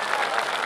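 A crowd claps together at a political rally in Maharashtra, a dense, steady burst of applause filling the short moment, loud and close with a faint murmur of voices underneath.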